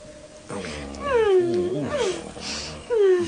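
A dog close by gives loud, drawn-out whining howls that slide up and down in pitch, repeated in several bursts.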